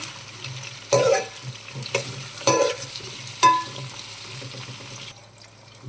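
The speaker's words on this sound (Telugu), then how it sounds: "కాసేపు ఫ్రై అయ్యాక ఇలా కలిపేసుకుందాం" A spatula scrapes and taps against a pan as plantain pieces fry with spring onions for a curry, several separate stirring strokes over a low, steady sizzle, close and fairly quiet, with no talking.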